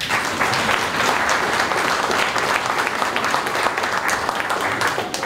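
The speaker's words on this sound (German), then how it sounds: "Ich hätte ja mal sagen, einen riesen Applaus" Steady, dense applause from an audience at a Bavarian folk-music evening of jokes and Gstanzl singing, filling the room loudly and evenly from start to finish with no pause.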